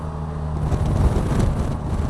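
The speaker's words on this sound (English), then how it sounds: "because you can hear the engine so well" A Polaris Slingshot's engine rumbles low while the open vehicle drives along, with wind buffeting the microphone over a steady, close drone.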